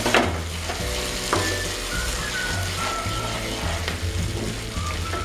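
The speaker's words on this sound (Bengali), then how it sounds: "পেস্টে এবার তেলে দিয়ে দেব" Ground spice paste hits hot oil in a pan for a Bengali yogurt prawn curry, giving a loud, close, steady sizzle with a few stirring clinks and no speech.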